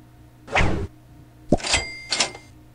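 A pie launcher fires in the Muppet Treasure Island game: a short rushing whoosh, then a sharp thunk followed by a bright metallic ring and a second ringing burst, all fairly loud with no talk over it.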